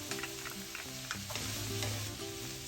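Sliced jalapeños hit a hot frying pan already holding softened onions and orange bell pepper, giving a steady, close, crackling sizzle throughout with no talking.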